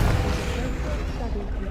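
A Confringo spell blast in the video game Hogwarts Legacy, heard as a loud, low, rumbling boom that fades over about two seconds, right at a voice.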